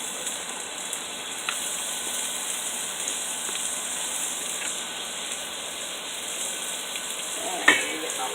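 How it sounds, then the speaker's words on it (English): Onion sizzling in a pan as it cooks toward lightly browned for a keto loaded soup, a steady soft frying hiss throughout with a few faint utensil clicks and one sharper tap near the end. "So you're just going to cook this till it's lightly brown."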